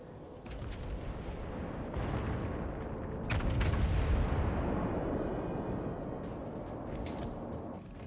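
Naval guns fire a salvo in a top-tier warship video game, a dense, continuous roar of booming blasts that swells to its loudest around the middle of the clip before easing off.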